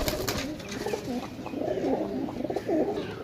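Pigeons coo nearby with repeated soft, throaty warbling calls, several overlapping phrases rising and falling in close succession against faint background noise.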